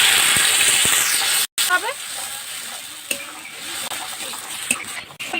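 A ground paste of green chili, onion, garlic and coriander leaves hitting hot oil, a loud close sizzle that briefly cuts out then continues more softly with stirring, while a voice talks over it.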